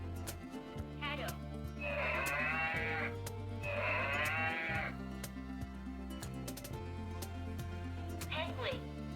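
A toy plays a recorded cattle moo twice, each long and wavering, over a steady background tune, with a faint livestock-like bleat at the edges.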